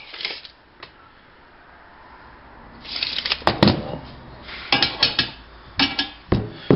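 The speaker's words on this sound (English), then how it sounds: "you may have to tap this around just a little bit with your hammer" A few sharp metallic hammer taps ring out in small clusters, loud and close, with quiet gaps in between, while assembling a MailSwing mailbox post.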